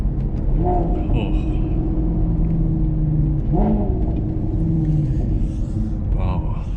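A Maserati MC Stradale engine roars loud and close with steady rumbling revs and a few rising swells, while someone talks over it.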